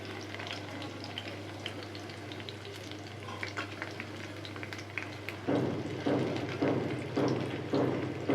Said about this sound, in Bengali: বেশি জোরে জাল দেইনি, খুব ধীরে ধীরে ভাজতে হবে পটলগুলো।